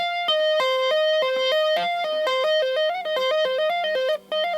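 An electric guitar plays a tapping lick in a quick, even run of bright, distorted notes, with one note moving through the sequence instead of holding still, heard alone and clear.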